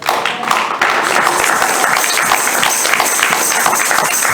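Congregation applauding and cheering in acclamation of God during a French-language church sermon, a dense, steady wash of clapping and voices that swells after a brief quieter start and carries on loudly throughout.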